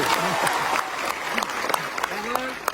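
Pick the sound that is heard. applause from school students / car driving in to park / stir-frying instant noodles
applause from school students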